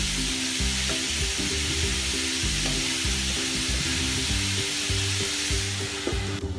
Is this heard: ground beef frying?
yes